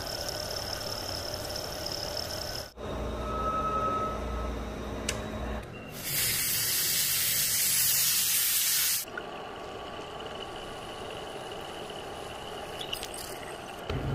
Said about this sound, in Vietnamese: Tiếp theo mình sẽ phay một rãnh 8mm dọc trên thân của chậu đỡ